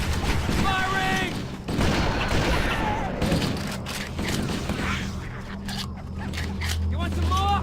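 Gunfire rattles in bursts during the Truth and Reconciliation mission of the video game Halo: Combat Evolved, mixed with mechanical clatter and in-game voices shouting over the fight.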